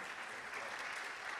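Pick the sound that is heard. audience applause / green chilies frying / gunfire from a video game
audience applause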